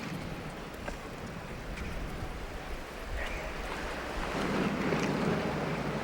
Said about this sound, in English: Tommy waiting for the wind to stop gusting